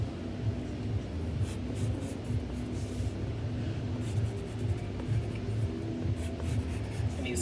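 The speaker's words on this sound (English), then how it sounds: "you can sketch this in pretty lightly first" Light pencil strokes scratching across paper, soft and continuous with faint rhythmic sweeps, close up over a low background rumble, no talking.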